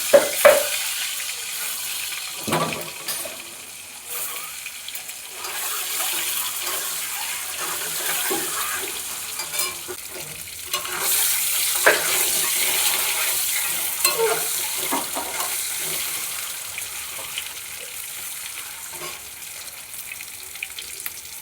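Eggs frying in mustard oil with turmeric and salt, a long close sizzle with intermittent scrapes and stirring knocks, fairly loud and even, with no talking.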